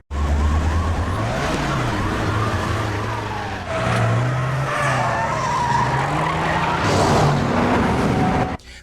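A car chase from an Indian film, with tires screeching and engines roaring up close, a siren wailing through the mix and a dense, loud action score driving underneath.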